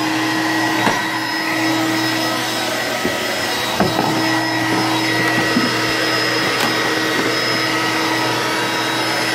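An Electrolux Discovery 2 upright vacuum cleaner runs with a steady, loud motor whine and constant airflow hiss, a few brief knocks and clatters breaking through, no voices.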